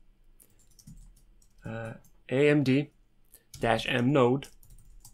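Light clicks of typing on a computer keyboard come in a short faint run at the start, then someone talks over a quiet background.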